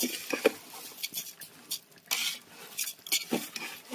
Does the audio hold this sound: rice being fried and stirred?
yes